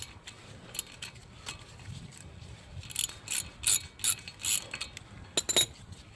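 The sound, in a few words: ratchet with 5mm Allen hex bit removing screw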